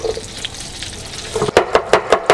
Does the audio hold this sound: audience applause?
no